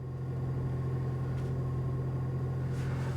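A 2025 Toyota 4Runner TRD Off-Road with the i-FORCE MAX hybrid powertrain starts up, giving a steady low rumble with a constant hum that holds evenly throughout.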